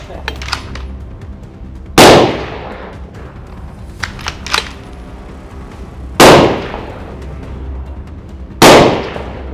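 A rifle fired on an outdoor shooting range by a machine gunner learning to snipe, three loud sharp reports spaced a few seconds apart, each with a rolling echo, plus fainter mechanical clicks of the bolt being worked between shots.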